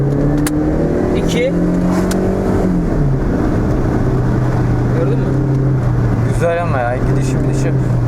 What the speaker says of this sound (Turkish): Yani gaza verdiği tepki güzel. Motor sesi de çok güzel.